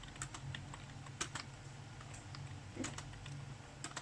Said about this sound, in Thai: เขาเรียกว่าคีย์บอร์ดไร้คุณภาพ